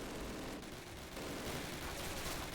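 Dense machine gun fire in Call of Duty (2003), a World War II Normandy campaign, rattles on continuously for the whole stretch as a loud, unbroken barrage with no voices over it.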